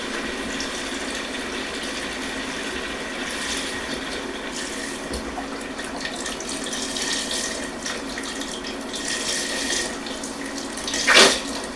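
Vegetable stock pours steadily into a pot of butternut squash, a continuous liquid splashing and gurgling that holds for several seconds, then ends with a brief louder clatter.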